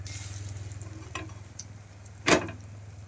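Panch phoron spices sizzle in hot oil as a faint, steady frying hiss over a low hum, broken by a sharp clatter near the end.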